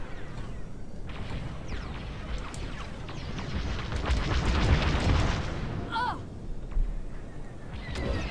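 Missile impact in the Star Wars Squadrons space combat game, a broad rumbling blast that swells to a sustained roar mid-clip amid continuous engine noise and sharp laser-like streaks, with brief chirps near the end.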